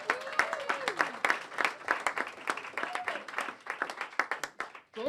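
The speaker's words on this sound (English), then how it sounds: "Can I have a round of applause for Mayor Walsh?" An audience applauds Mayor Walsh at a civic event, a lively run of close, crisp handclaps with a few faint voices mixed in, fading out near the end.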